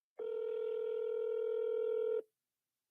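A single long tone of about two seconds sounds as a telephone number is dialed, a clean steady pitch that cuts off sharply into silence, with no talking.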